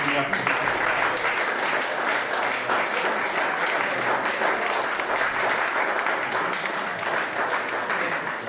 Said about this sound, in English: just a round of applause for all the guys